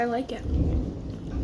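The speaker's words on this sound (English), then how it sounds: "Because it's raining." Rain pours steadily on a rainy day, a dense low rumble and hiss filling the background throughout while a person talks over it close by.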